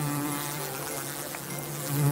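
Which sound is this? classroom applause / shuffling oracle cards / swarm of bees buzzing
swarm of bees buzzing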